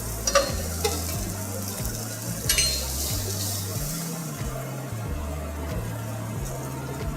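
Hash of grilled corn, bacon, asparagus and tomatoes cooks on a griddle with a steady close sizzle, a low rhythmic hum running beneath and a few brief scrapes near the start.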